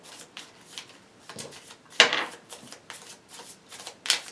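A deck of cards being shuffled in a tabletop board game session, a run of soft riffling bursts with one sharper, louder riffle midway and another near the end, close and quiet with no talk.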